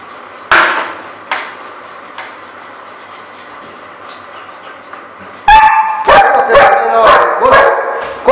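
A four-month-old young dog in guard dog training gives a few sharp barks, then a rapid loud burst of barking, with quieter handling noise between.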